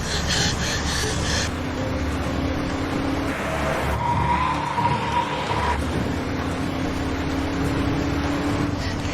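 A car speeds along with a sustained engine roar and a brief tire skid, loud and continuous throughout, with no talk over it.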